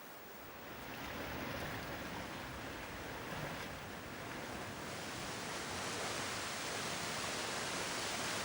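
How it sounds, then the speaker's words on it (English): A large waterfall of turbulent water in a Brazilian national park roars as a broad, continuous rush, steady and fairly distant with no voices. "The large waterfall inside this national park washes the crags with 40 meters of turbulent water."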